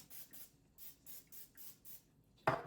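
Short hissing spray bursts of grease release hit a waffle iron, about seven quick rhythmic puffs close by, followed by a sharper clatter at the end.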